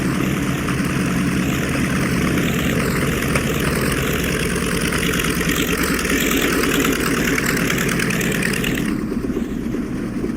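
A B-25 Mitchell bomber taxis with its propeller engines running in a steady, loud, droning roar that holds throughout, with a slight change in tone near the end.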